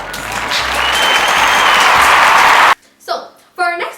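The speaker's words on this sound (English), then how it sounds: "Give a big round of applause for Ioka," Loud audience applause at a talk show swells for nearly three seconds and then stops abruptly, followed by a voice speaking briefly.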